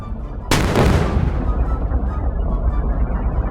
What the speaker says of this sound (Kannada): ಪೆಟ್ರೋಲ್ ಟ್ಯಾಂಕ್ ಬ್ಲಾಸ್ಟ್ ಮಾಡೋಣ